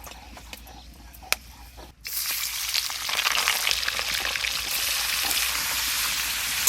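Cardamom pods and cloves hit hot mustard oil with a sudden loud sizzle that starts abruptly and then holds as a steady, dense crackling fry.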